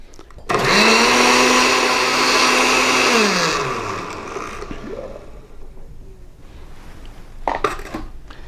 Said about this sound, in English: And we're going to give that a blend.